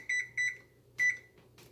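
An electric teapot's timer is set to 4 minutes: a few short, close electronic beeps, two quick double beeps and then one longer beep, in a quiet room.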